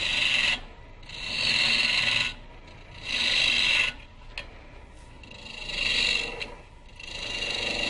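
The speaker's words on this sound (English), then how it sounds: "I prefer to use a bowl gouge." A bowl gouge cuts wood on a lathe while turning a goblet, giving loud, close hissing shear strokes that swell and fade in long repeated passes with brief quieter gaps between.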